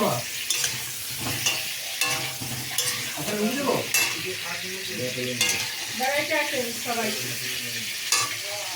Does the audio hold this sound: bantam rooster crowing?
no